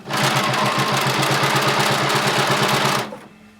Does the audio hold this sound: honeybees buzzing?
no